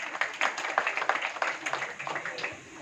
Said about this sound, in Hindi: आपके लिए भी जोरदार तालियां